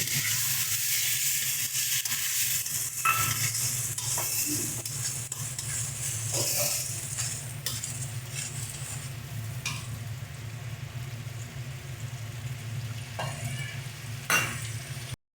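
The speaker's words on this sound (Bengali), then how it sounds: "মশলাটাই খুব ভালোভাবে কষিয়ে নিয়েছি এবার আমরা টমেটোর পেস্টটা দিয়ে দিচ্ছি" Tomato paste sizzles in a pan of fried spice masala for a spicy pomfret curry, a continuous frying hiss with frequent spoon-stirring scrapes and clinks close by.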